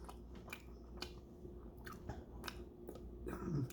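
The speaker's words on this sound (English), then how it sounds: "first thing I notice upon biting into the noodles is a taint" Close chewing and biting on noodles seasoned with salty, spicy hot sauce, soft repeated crunchy bites spaced through a quiet room with no talk.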